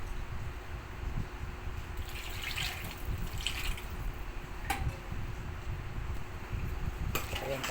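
Steady rushing water poured into a pot with meat runs throughout, close and fairly loud, with a few sharp clicks and clinks over the flow.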